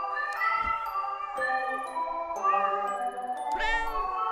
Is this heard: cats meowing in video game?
yes